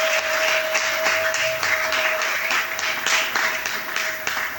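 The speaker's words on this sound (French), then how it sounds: "S'il peut s'approcher avec nos acclamations" A crowd at a church youth gathering claps steadily in a dense patter that carries on throughout, with a sustained tone humming in the background.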